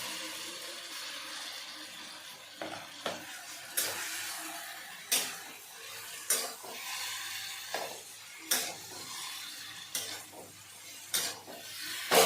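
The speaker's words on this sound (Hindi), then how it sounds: "तो टमाटर हो चुके हैं और मैं डाल दूँगी इसमें आलू" Potatoes are stirred into frying tomatoes in a pan, giving a quiet bed of sizzle with regular, repeated scraping strokes of a spoon against the metal, close and unaccompanied by talk.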